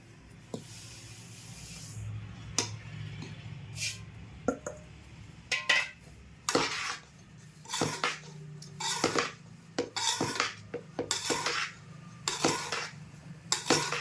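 Semolina (rava) stirred into finely ground gram flour in a bowl for besan ladoo: a spoon repeatedly scrapes and clinks against the bowl in short, irregular strokes, close and fairly quiet, with no voices.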